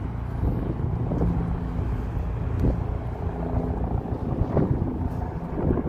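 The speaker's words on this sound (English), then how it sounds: "Here comes the helicopter." A helicopter flying overhead in Chicago's South Side, its low rumble and rotor thump droning steadily with wind noise, fairly loud and continuous.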